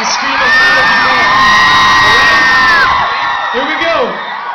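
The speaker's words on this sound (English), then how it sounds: "scream as loud as you can" A concert crowd screams and cheers at full volume, a dense wall of high shrieks and whoops swelling and holding for several seconds before easing slightly, loud and close.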